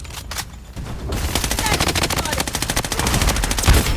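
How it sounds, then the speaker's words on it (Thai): Rapid automatic gunfire from the shooter video game Blood Strike, an M4A1 rifle burst after a brief pause, loud, close and evenly rhythmic for several seconds. "นึกว่ามีคนช่วยยิงที่ไหนได้ศัตรูนี่เอง"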